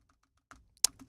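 A few scattered keystrokes on a computer keyboard while typing into Windows system settings, close and fairly quiet, with a sharper clack near the end.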